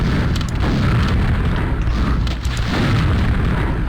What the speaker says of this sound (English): Same thing with the rocket launcher. You fire this like nearby him.